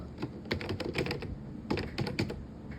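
Quiet keystrokes clatter on a computer keyboard in two quick bursts of irregular taps separated by a brief pause, close and alone while details are entered into an online admission form.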